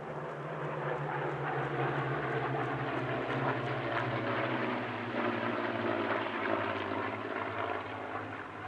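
A formation of P-40 Kittyhawk warplanes drones overhead at an airshow, a steady, moderately distant propeller-engine roar with layered low tones sustained throughout, no talk.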